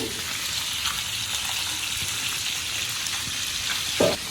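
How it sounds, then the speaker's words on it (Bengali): Fish frying in a pan in a home kitchen gives a steady, broadband sizzle that hisses continuously throughout, with a brief louder crackle near the end and no talking. "এদিকে মাছ ভাজা হচ্ছে"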